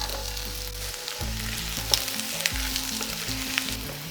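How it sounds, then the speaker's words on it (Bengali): Onions fry loudly in a pan as previously fried potatoes go in, a strong close sizzle with stirring scrapes and a few sharp clicks of the utensil against the pan, no voices. "ঠিক এই সময়ে ভেজে রাখা আলুটা দিয়ে দেব।"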